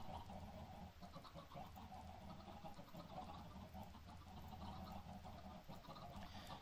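Minecraft chickens on a chicken farm, clucking in a soft continuous game-audio layer with no speech over it, fairly faint and steady throughout.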